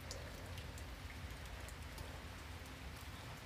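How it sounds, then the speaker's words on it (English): Rain falls steadily outside on a cold day, a soft, even hiss of drops on surfaces that stays faint and continuous throughout, with no voices. "seeing that it was raining"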